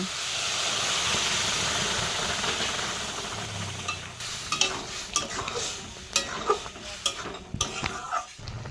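Jute leaves hit hot oil with fried garlic in a wok, first a loud steamy hiss, then repeated close scraping and clanking of a spatula stirring the greens.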